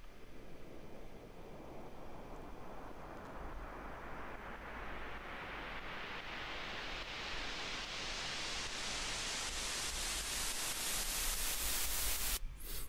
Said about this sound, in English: we have our build up, which is just there's some white noise going on.